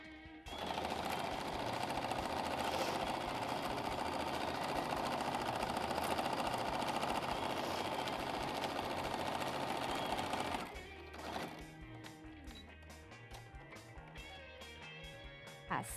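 A domestic sewing machine stitches fabric for a cushion in a loud, continuous whirring run of about ten seconds. It stops abruptly and is followed by softer handling clicks and rustles.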